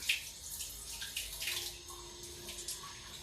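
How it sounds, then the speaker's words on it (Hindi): Tap water runs steadily over a kitchen knife as it is rinsed at a sink, a soft continuous splashing that stays fairly quiet with no talk. "ये इसको मैं चाकू धो लूं क्योंकि फास्ट है"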